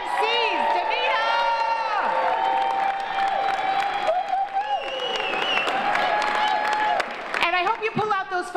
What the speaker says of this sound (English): Give me a round of applause for Danita Harris, the MC of MCs.